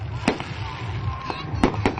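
Fireworks bursting outdoors in the open air, several sharp cracking bangs at irregular intervals over a low background rumble, fairly close.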